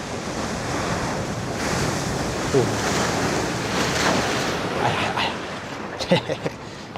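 Large waves crash and surge at the Figure 8 Pools on a rocky coastal shoreline, with constant roaring surf and wind buffeting the microphone. Sharper splashes come near the end.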